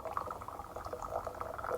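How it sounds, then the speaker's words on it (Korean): Tea trickles into a cup on a veranda overlooking a yard, a quiet, continuous liquid pour heard faintly and alone. "마당이 보이는 툇마루에 앉아 차를 따른다."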